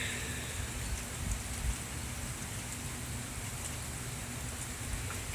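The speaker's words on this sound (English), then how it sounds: "the rain is like calming down now" Steady, even rainfall from Hurricane Sandy with a soft constant hiss and light patter on surfaces, no voices.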